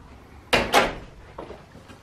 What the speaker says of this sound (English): And I will shut the door.